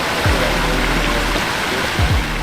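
Water in a swim pond stream pours steadily in a broad, continuous rush, close and even throughout, with a few low gurgling splashes rising out of the flow.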